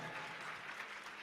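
Audience members clap at a Black History Month show, a brief, faint spatter of mixed applause.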